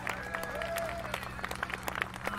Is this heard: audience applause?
yes